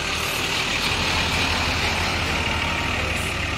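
An MPM Mandalika premium class bus runs with a steady, close diesel engine rumble and a broadband hum that holds unchanged throughout, with no voices.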